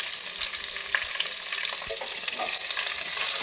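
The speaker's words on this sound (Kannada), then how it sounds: "ಸ್ವಲ್ಪ ಫ್ರೈ ಆಗಿ ಈರುಳ್ಳಿ." Onion and curry leaves fry in a pan with a steady hiss, joined by light scraping and soft clicks from stirring, close and alone without voices.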